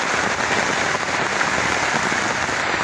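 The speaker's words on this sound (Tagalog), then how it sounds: "Lakas ng ulan." Heavy rain pours steadily at a riverside nature camp, a loud, dense hiss of drops drumming on a surface with no pauses.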